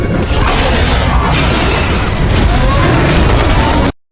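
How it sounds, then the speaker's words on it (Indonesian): A fuel-oil tank in a burning network building blows up in a film scene, a dense roaring blast of rumble and crackle that stays loud and sustained for about four seconds before cutting off abruptly. "Semua minyak dalam tangki itu meledak dan membakar ular raksasa itu."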